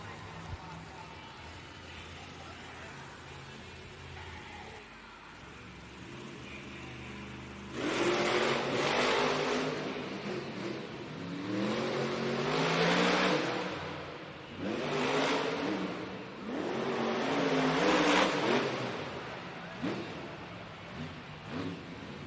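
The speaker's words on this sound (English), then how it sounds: "make some noise for Tony Oaks, JCB Digatron." Tony Oaks's JCB Digatron monster truck at a Monster Jam event in Cincinnati's Heritage Bank Center arena: a low idle rumble gives way to loud, repeated surging revs with rising pitch sweeps, close and powerful, over arena din and voices.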